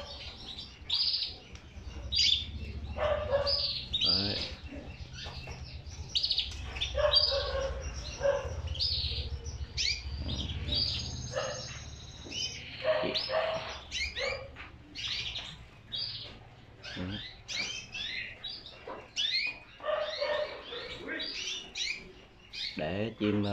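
Hoàng yến and hồng yến canaries in a crowded breeding aviary chirp and trill continuously, many birds overlapping in dense, busy song with steady background hum throughout.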